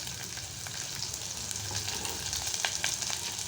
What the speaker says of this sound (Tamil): நல்லா சின்ன வெங்காயம் வதங்கட்டும்